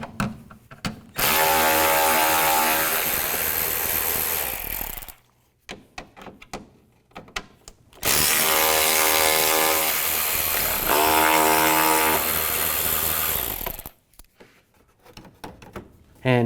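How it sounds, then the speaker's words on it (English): A power ratchet fitted with a T20 socket spins out screws while a power steering cooler is removed from a 2007-2016 GMC Acadia, giving two loud whirring bursts of several seconds each, separated by quiet clicks and handling noise. "Use a T20 socket."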